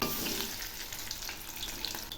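Besan-coated cabbage pieces frying in hot oil, a steady close crackling sizzle with small pops throughout and no talk.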